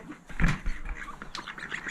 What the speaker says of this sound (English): Oh, the ducks have come to greet us.